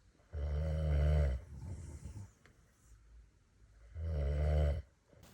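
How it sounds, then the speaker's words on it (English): Loud snoring from a person sleeping in a crowded Appalachian Trail shelter in the Smokies, two long rasping inhalations separated by a quieter exhale, close and prominent with no talk. "there was someone in the shelter snoring so loud that we all couldn't help but laugh about it"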